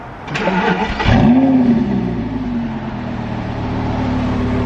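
A Lamborghini engine cranks and fires with a sharp bark, revs up briefly, then settles into a deep, steady idle.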